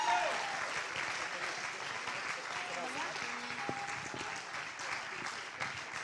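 An audience applauds at a Christian music festival concert, dense continuous clapping from a crowd, with faint voices and brief musical tones underneath.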